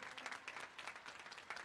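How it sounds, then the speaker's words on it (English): Faint, distant applause at a 2021 graduation ceremony for the graduating class: a steady wash of many hands clapping with no voices over it. "yourselves a big round of applause for your hard work"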